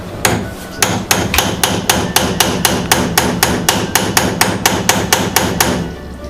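A hammer planishes metal on a steel block in a fast, steady rhythm, about two dozen sharp ringing blows, loud and close with no talking.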